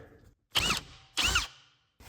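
A power drill bites into a 1963 Corvair engine in two short, loud bursts about half a second apart. Quiet gaps sit around them, and a third burst starts at the very end.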